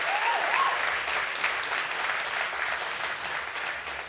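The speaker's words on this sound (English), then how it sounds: "Yeah, round of applause, why not?" Studio audience applause, an even wash of clapping from a modest crowd at moderate level, easing slightly toward the end, with a short whistle near the start.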